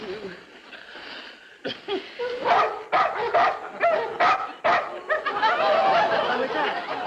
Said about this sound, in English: They've got barking dogs.